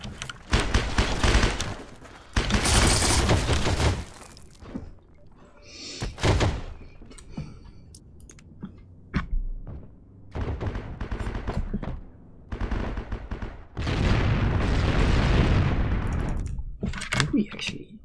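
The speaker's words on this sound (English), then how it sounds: "Someone shooting at me." Rapid gunfire bursts and heavy impacts from a multiplayer shooter game, loud and dense, in long sustained stretches broken by brief pauses, with a voice talking at times between them.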